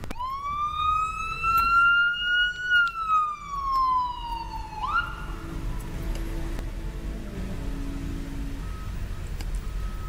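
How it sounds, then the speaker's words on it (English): An ambulance siren wails along a city street in Las Vegas, one long loud tone bending down in pitch as the vehicle passes close by, then fading into low traffic rumble. "Apparently we saw the ambulances, and I decided to stop talking for a moment."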